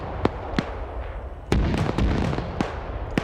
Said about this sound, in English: mortars singing out.